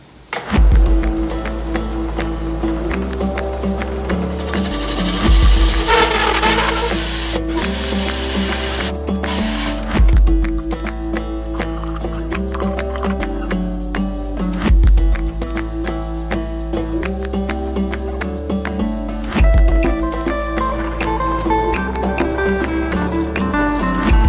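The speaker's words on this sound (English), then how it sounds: "I'm using a hole saw to cut a round plug out of the table." A hole saw grinds steadily through a wooden tabletop to cut out a round plug, loud and close, with a continuous rough whir and periodic surges as the bit bites.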